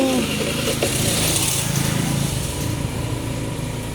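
A motorcycle engine sputters and struggles as someone tries to start it, a rough uneven mechanical drone running steadily throughout at close range while people talk nearby.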